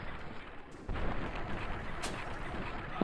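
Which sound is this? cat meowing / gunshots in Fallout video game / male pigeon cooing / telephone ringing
gunshots in Fallout video game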